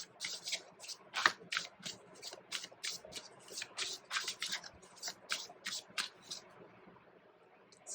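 Tarot cards being shuffled and drawn during a card reading, heard as a rapid run of crisp, close riffling flicks and slaps that gradually thins into softer handling near the end.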